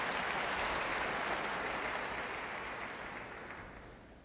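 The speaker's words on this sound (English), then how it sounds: "I don't know why you clap." Audience applause after a lecture in Washington, a dense steady wash of clapping from a large crowd that slowly fades toward the end, with no talk over it.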